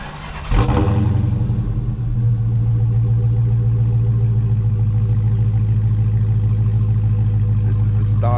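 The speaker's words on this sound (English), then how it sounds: "I'm gonna show y'all the stock exhaust." A Dodge Hellcat on its stock exhaust starts up with a sharp bark, then settles into a steady, deep idle rumble that holds close and even for several seconds.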